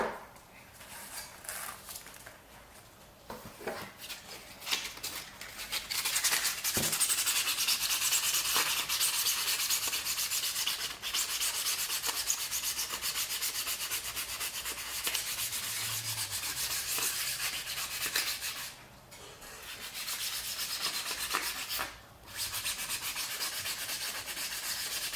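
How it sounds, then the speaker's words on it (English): Continuous scratchy sanding rubs back and forth against hard PLA plastic, with brief pauses, close up and fairly quiet. "I can actually take this and sand it down."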